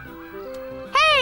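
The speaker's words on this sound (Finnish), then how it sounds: "Linnut lensivät korkealta Mambo Virtasen myllyn ylitse. Ne palasivat talven jälkeen etelästä." A flock of geese returning in spring honks loudly and close, a harsh cry bursting out after a moment of softer bird calls.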